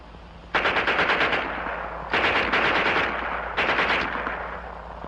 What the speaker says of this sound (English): And here's their Schmeisser.